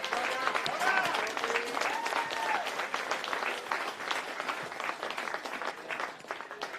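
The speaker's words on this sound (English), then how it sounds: "Can we have another round of applause for Daniel Brown?" Sustained applause from an audience at a football awards presentation, a dense, even wash of clapping hands that holds steady then eases slightly toward the end, with a few voices audible amid the crowd.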